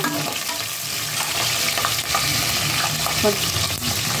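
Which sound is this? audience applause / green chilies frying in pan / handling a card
green chilies frying in pan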